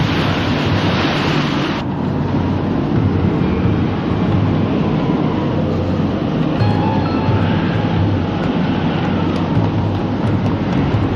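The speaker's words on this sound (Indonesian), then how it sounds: "Angin puyuh dan pusaran air bergabung menjadi satu." Anime sound effect of a whirlwind and whirlpool merging into one: a loud, continuous roaring rush of wind and churning water, dense and unbroken throughout, with a slight shift in tone early on.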